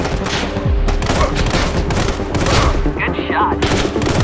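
Rapid bursts of assault rifle fire in the Sniper Fury shooter game, dense and loud, with dull booms and game effects layered over a constant battle din.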